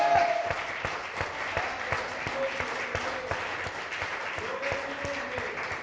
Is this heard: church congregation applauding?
yes